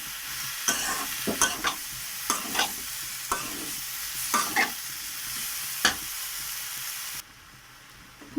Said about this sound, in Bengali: আমি এগুলো দিয়ে আবারও ভালো করে এই কপির সঙ্গে মশলাটা মিশিয়ে ভালো করে নেড়ে ছেড়ে নেব